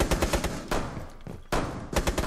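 Gunfire in Rainbow Six Siege, rapid bursts of automatic shots close by, broken by short pauses between volleys, with no talking.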